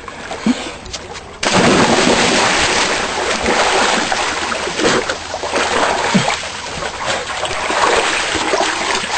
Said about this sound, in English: rather than ease myself in slowly so my body can adjust to it, or check for rocks, I'm just going to dive straight in